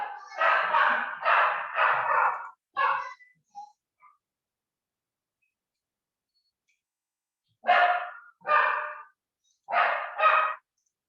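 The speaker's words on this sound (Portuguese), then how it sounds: "Espera meu cachorro aqui, ficou doido." A pet dog barks in loud bursts: a rapid run of barks, a pause of silence, then several more, close by indoors.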